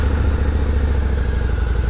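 A Harley-Davidson V-Rod motorcycle engine runs just after starting, a low, steady, fairly quiet idle with an even mechanical patter, heard close and alone.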